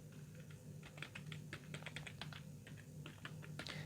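Text is typed on a computer keyboard in a steady run of soft, fairly quiet key taps over a low background hum, with no talking.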